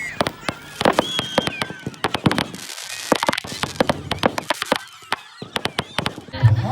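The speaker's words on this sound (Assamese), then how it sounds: "ফটকা ফুটা সময়ত বাৰু কাৰ ভাল লাগিছে" Firecrackers crack and pop in rapid irregular bursts at a village cricket tournament, sharp close reports scattered through the whole stretch with voices of the crowd around.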